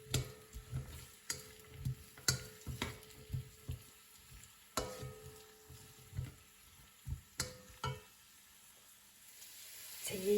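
Onions sweating in a pot give off a faint, steady sizzle, broken by soft irregular stirring scrapes and occasional light clicks of a utensil against the pot, heard close and quiet.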